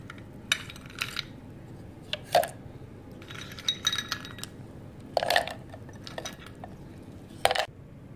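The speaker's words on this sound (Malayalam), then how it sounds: "ice cubes" In a home kitchen, ice cubes drop into a glass or jar holding milk and condensed milk for a jackfruit seed shake, making a scatter of sharp, hard clinks spread unevenly over several seconds, with no voices.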